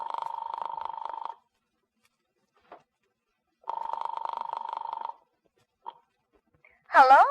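A telephone dial tone and ringing as a radio drama sound effect: two long buzzing rings separated by silence, short clicks of dialing between them, then a brief sliding tone at the end.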